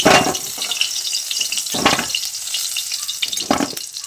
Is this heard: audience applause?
no